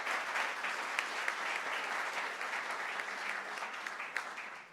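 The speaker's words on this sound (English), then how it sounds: "we do have to applaud Nellie" An audience at a museum director's talk breaks into steady applause, a continuous moderate wash of many hands clapping with scattered sharper claps, no speech on top.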